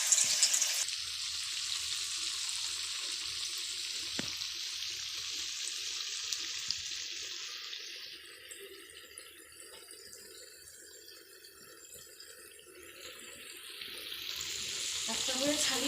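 Sabudana fritters frying in hot oil give off a continuous bubbling sizzle with a faint crackle that fades slightly in the middle and swells again at the end, steady and close.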